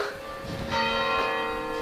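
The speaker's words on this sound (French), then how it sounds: "à chaque heure ici, on a une cloche qui sonne dans l'église" A church bell rings out in a French village, its struck tone ringing on with long overtones and a second strike near the middle; the bell sounds fairly near and loud, with no voices over it.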